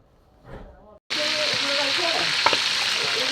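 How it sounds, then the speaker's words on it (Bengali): Chicken for roast is frying in a pan in a village home kitchen. After a second of quieter sound with a brief voice, a loud, steady sizzle suddenly starts and continues throughout. "রোস্টের জন্য মুরগিটা ভাজা হচ্ছে।"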